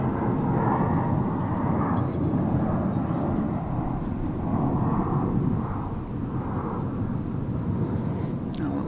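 A plane, probably the West Virginia Mountaineers' team flight arriving for a bowl game in Frisco, comes in at DFW Airport with a loud, steady broadband engine roar that holds throughout with little change.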